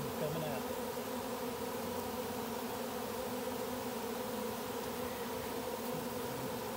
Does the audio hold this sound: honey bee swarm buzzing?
yes